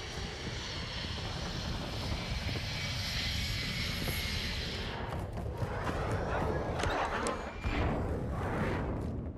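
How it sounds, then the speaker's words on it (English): Reconnaissance drone aircraft droning steadily overhead in Modern Warfare 2 (2022), a continuous engine hum with gunfire-like bursts and game effects in the second half. "Recon overhead. Copy that. UAV is on station."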